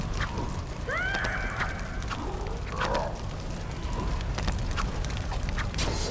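A horse neighs in the Lego Hobbit video game, giving a short rising whinny near the start that sits over a steady bed of game ambience and mechanical creaks.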